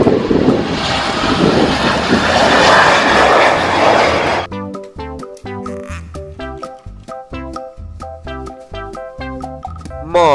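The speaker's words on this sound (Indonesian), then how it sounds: "Pesawat terbang." A loud airplane engine roars for several seconds, then cuts to a bright musical jingle with rhythmic tones.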